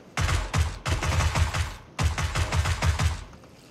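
Rapid bursts of automatic gunfire from a shooter video game, two long runs of close, loud repeated shots separated by a short gap, with no talking.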